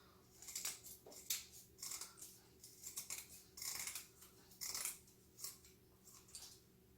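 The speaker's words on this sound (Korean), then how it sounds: "가위로 회 뜨는 방법을 가르쳐 주더라고" Kitchen scissors snipping the fins off a fish being filleted after shore fishing near Geoje Bridge, a quick irregular series of close, crisp metallic cuts with no talk.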